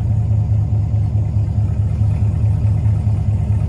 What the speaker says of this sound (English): See, look, like, my idle keep going up and down.